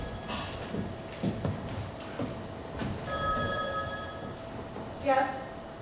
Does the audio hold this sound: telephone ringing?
yes